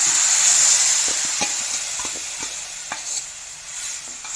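Tamarind water poured into a frying mix of chilli powder and turmeric, sizzling steadily close up with scattered stirring clicks, no voices.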